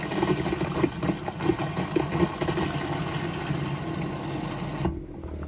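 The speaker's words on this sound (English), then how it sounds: "you get a little light inside here telling you that the water pump is running" A water pump in a 2013 Hillside Leisure Cromford caravan runs with a steady mechanical hum and faint rhythmic pulsing, then cuts off abruptly near the end, leaving a quieter background.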